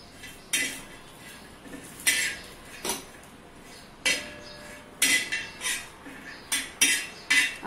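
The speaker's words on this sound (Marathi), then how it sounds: "आता हे सुका खोबऱ्याचे तुकडे केलेत ते भाजून घ्यायचे।" Dry coconut pieces roasted in a pan for a Khandeshi patvadi curry, with repeated scraping and clinking of a spatula against the metal pan in irregular bursts, close and fairly loud, with no talk.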